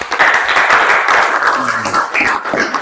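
Classroom students clap for a classmate's correct answer in an Islamic religious education lesson: a short burst of close, brisk group clapping with a faint voice underneath.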